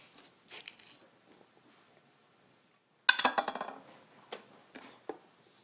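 A knife slices through a raw bell pepper on a board: a sudden crunchy cut followed by a quick run of crisp crackles, then a couple of lighter taps, after a quiet stretch.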